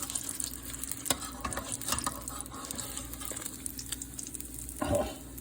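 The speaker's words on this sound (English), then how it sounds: "Beautiful Polish fried doughs." Polish fried dough frying in hot oil, eight pieces in the pan, giving a quiet, continuous crackling sizzle with a few soft clinks and a brief louder burst near the end.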